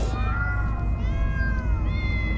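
A cat in Minecraft: Story Mode gives a drawn-out, wavering meow that runs almost without pause, close and fairly loud over a low background rumble.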